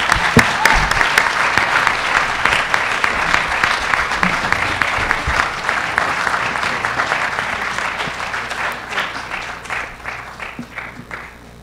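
A lecture-hall audience at a Hofstra debate applauds the speakers, a loud, dense burst of many hands clapping that gradually thins and fades over about ten seconds.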